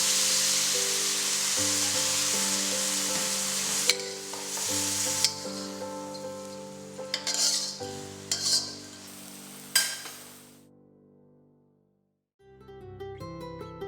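Prawns stir-frying in a pan, a steady sizzle with scraping stirs and occasional sharp clinks. Tonal music runs underneath and remains alone at the end after the frying stops.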